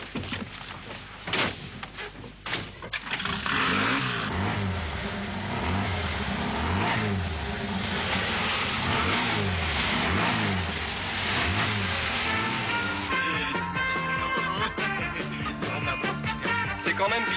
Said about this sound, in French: je vais faire tourner le moteur